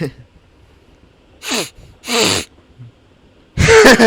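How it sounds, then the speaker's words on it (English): A voice actor performs exaggerated sniffing: two sharp, separate nasal sniffs in quick succession, then a louder, longer burst at the end, close to the microphone with near silence between them. "Just doing a lot of sniffing."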